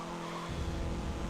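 An Opel GT driving downhill, a steady engine drone that deepens and grows fuller partway through, with tyre noise and a racing-game feel.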